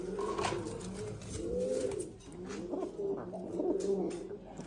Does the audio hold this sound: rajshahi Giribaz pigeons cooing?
yes